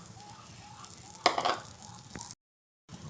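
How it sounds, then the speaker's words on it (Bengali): Chopped dry fruits fry in a spoonful of ghee while being stirred in a pan for falooda semai. A soft steady sizzle is broken by a few scraping stirs, then a short silence. "ড্রাই ফ্রুটগুলো খুব সুন্দর করে নেড়ে এখানে আমি ভালো করে ভেজে নেব"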